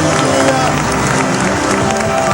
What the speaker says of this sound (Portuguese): Dê uma salva de palmas ao nome dele.